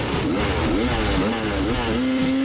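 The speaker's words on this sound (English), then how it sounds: "Just listening to the engine" A two-stroke dirt bike engine buzzes steadily during an enduro lap, its pitch rising and falling as the throttle opens and closes, loud and close throughout.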